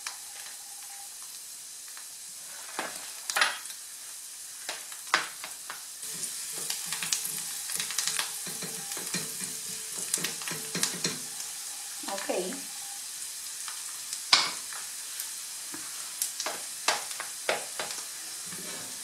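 Peppers, onion and garlic sautéing in a frying pan for rice and cheese balls: a soft, steady sizzle broken by intermittent stirring clicks and scrapes, fairly quiet and close, with brief talking now and then.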